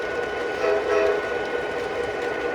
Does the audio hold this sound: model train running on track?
yes